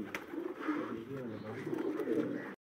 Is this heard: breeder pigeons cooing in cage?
yes